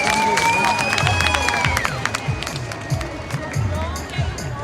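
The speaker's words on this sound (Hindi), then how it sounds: "तालियां हो जाए।" A crowd at the Miss Kinnaur beauty contest in Kinnaur applauds and cheers, with busy clapping and excited voices mixed with tonal sounds. Speech runs through the noise, and the crowd stays loud and lively throughout.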